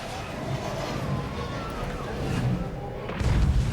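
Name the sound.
cannon firing in a Warhammer video game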